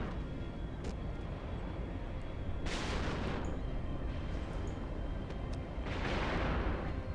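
Missile volleys fired during a large space battle in the game EVE Online, two roaring whooshing bursts rising over a dense, continuous rumble of combat noise, with faint sharper crackles scattered throughout.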